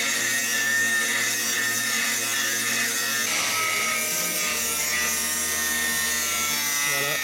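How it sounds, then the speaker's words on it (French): Rusted sheet metal on a Toyota Hiace 4x4 being cut with a power tool, a loud, steady high-pitched whine running the whole time with shifting tone, close by. "le chef a commencé à découper"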